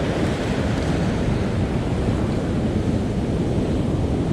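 Heavy ocean surf rolls in at the shore, a steady, loud wash of breaking waves and white water that fills the whole stretch without pause, with some wind rumble.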